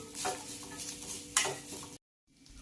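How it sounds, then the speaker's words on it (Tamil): Brinjal frying in oil in a pan, a soft steady sizzle with a couple of sharp stirring scrapes, cutting to a short silence before the sizzle returns faintly. "இது நல்லா வறுபடட்டும்."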